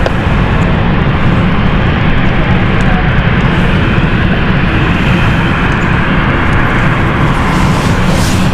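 A jet airliner begins to taxi at London City Airport, its engines a loud, steady, close broadband roar that holds unchanged throughout.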